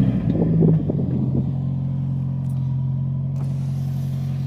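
A Subaru WRX fitted with a new exhaust starts up close by, giving a short cranking burst and a revving flare before settling into a steady, deep idle rumble.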